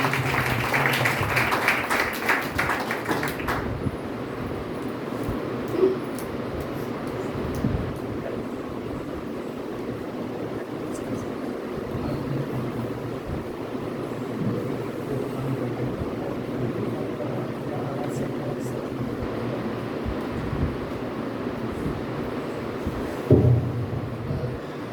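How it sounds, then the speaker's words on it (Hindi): A church congregation claps vigorously to welcome the pastor, a loud burst of applause for the first few seconds that then gives way to a low, rumbling room murmur. "तो हम ताली बजाकर जोर के साथ उनका स्वागत करेंगे अपने बीच में"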